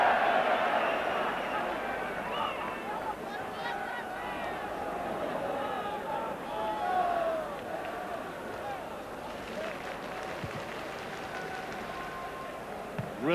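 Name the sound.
football stadium crowd at Ibrox, about 40,000 spectators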